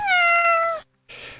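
A single drawn-out cat meow, clear and close, followed after a brief pause by a short noisy burst.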